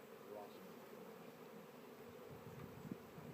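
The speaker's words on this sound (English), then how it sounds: "We got a special Italian bee." Italian honey bees swarming during a swarm capture, a dense continuous buzzing drone with a few louder passes close by, no talking.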